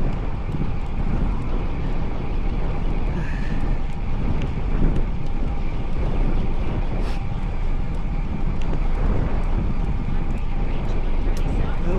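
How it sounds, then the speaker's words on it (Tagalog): Strong wind rushing over the microphone on a long bike ride, a loud continuous low roar with gusty buffeting throughout, broken by faint thin squeaks and ticks. "Mas malakas yung hangin dito."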